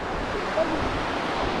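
A mountain stream near a waterfall in Gulmarg makes a steady, close, full rushing wash of water with no break or change in level.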